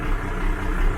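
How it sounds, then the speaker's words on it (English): A Carver boat's engine runs steadily for a second after fuel polishing, a close, even low rumble with a smooth idle-like drone and no voices. "we're just running the engine up just to see how, make sure there's no air in the system"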